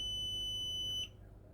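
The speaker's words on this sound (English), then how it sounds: "Using the multimeter in continuity mode, I verify whether the fuse is open" A multimeter in continuity mode beeps while testing a fuse in a power supply: a steady high electronic tone held for about a second, then cutting off abruptly.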